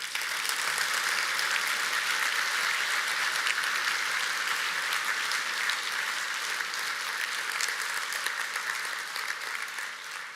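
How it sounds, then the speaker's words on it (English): Sustained applause from a large crowd, dense steady clapping throughout that eases slightly toward the end. "a round of applause, please."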